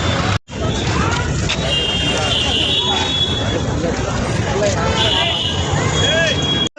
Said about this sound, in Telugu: చాలా ట్రాఫిక్ ఉంది.